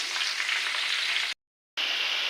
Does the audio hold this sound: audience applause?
no